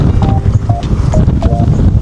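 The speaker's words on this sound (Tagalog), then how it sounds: "Medyo malakas ang hangin" Loud, buffeting wind roaring across the microphone, low and rumbling throughout, with a few faint tones poking through.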